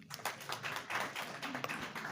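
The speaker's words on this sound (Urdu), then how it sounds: "محترم مظہر نیازی صاحب سے آپ سرائیکی زبان کی تالیوں میں" Audience applause at a Pakistan Academy of Letters annual regional-languages workshop, with a dense, steady patter of many hands clapping at moderate loudness for about two seconds, no voices over it.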